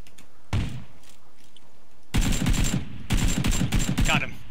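Rapid bursts of Mini 14 rifle fire in a mansion shootout video game, two dense volleys of sharp repeated shots after a lone earlier crack, loud and close.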